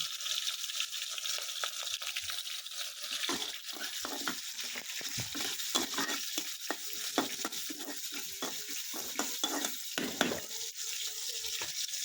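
Chopped onion frying in a pan, cooked alongside fish: a continuous bright sizzle with frequent spatula scrapes and stirring clatter, close and steady for the whole stretch, with no speech.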